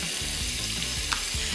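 Diced chicken and vegetables fry in a hot pan, a constant close sizzle with the soft scrape and clatter of stirring repeating every few tenths of a second.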